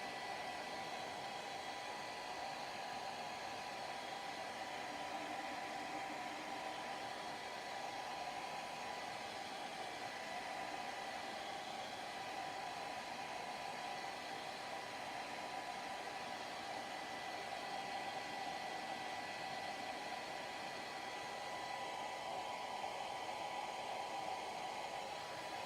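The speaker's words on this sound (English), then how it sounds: "Sorry for the noise of the blow dryer." A blow dryer runs steadily and close for the whole stretch, a constant even whoosh of air with a faint motor hum and no pauses or voices.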